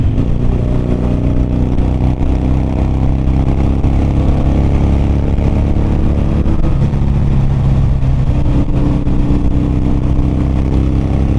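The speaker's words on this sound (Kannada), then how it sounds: "ಆಕ್ರೋಫೋಬಿಚ್ ಎಕ್ಸಾಸ್ಟ್ಗಳೆಲ್ಲ ಫುಲ್ ಸಿಸ್ಟಮ್ ಇದ್ರೂ ನಿಮಗೆ ಸಟಲ್ ಮತ್ತು ಸ್ವೀಟಾಗಿರುತ್ತೆ" A motorcycle fitted with an Akrapovic full-system exhaust riding through evening traffic, giving a steady, fairly subdued engine drone throughout with no speech.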